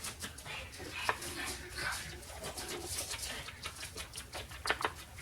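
A small dog makes faint, short yips and whimpering sounds indoors, scattered irregularly at low volume amid light background noise.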